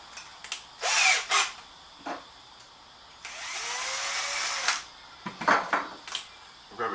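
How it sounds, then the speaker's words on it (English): A power drill bores holes for kayak steering wires and a pop rivet. Several short revving bursts come first, then a longer sustained drilling whine with its pitch shifting. Close clatter and handling knocks follow, all near and loud. "Now I'll drill the holes now."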